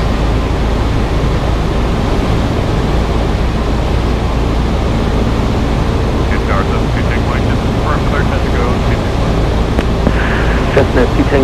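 A Cessna on approach to runway 26 left, heard from inside the cockpit as a loud, constant engine drone. Faint radio voices come through near the end.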